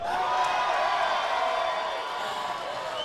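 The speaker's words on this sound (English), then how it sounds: "all the crowds here supporting you, making the noise electric" A large crowd at a London kickboxing event, Total Kombat, cheering and roaring in a steady, continuous wash of noise that holds loud and even throughout.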